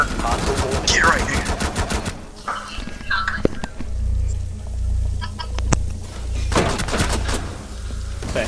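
Rapid automatic gunfire from a competitive shooter video game, loud bursts of fast shots in clusters with sharp single cracks between, while players talk over the action.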